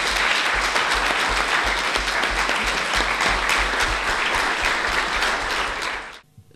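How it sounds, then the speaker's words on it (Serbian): A hall audience gives a big round of applause for award-winning pupils, loud, dense clapping that runs steadily for several seconds and then cuts off abruptly. "vas molim jedan veliki aplauz za ovu dečicu našu"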